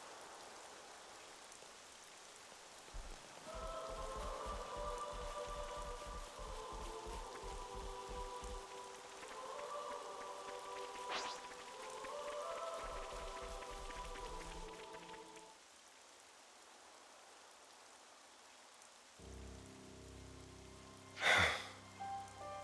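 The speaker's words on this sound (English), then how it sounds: "Rain, a blessing." Rain falling in the video game Xenoblade Chronicles 3, a soft steady patter running throughout beneath quiet musical tones, with a brief louder sound near the end.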